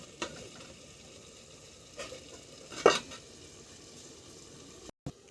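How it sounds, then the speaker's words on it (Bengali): Chicken curry meat sizzles quietly in a covered pan, a faint steady hiss with a few soft stirring scrapes and one brief louder clatter. "মাংসটাকে এবার ঢাকা দিয়ে ভালোভাবে কষিয়ে নেব।"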